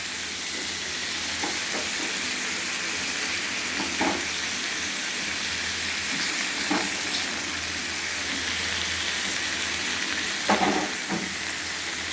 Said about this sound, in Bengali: দেখেন আমি এখন অল্প করে পানি দিই।